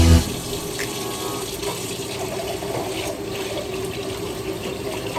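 Tap water runs steadily into a kitchen sink during washing up, a continuous close hiss and splash with no speech over it.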